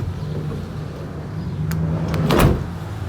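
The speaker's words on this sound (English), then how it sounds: "I love the way the door opens. Opens really easy." A Dodge Ram cargo van door opening with a soft click and latch release, then a brief louder clunk near the end over steady low engine or cabin hum.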